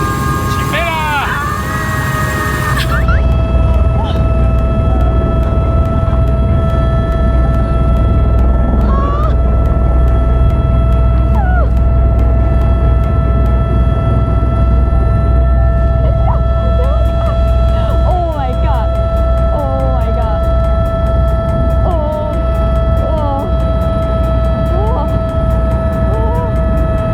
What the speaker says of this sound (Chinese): 搭着直升机，我们飞越了南阿尔卑斯山脉的山脊